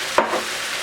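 Tomatoes hitting a hot pan for chicken cacciatore, one quick splashy thump followed by a short burst of faint sizzling over steady background frying.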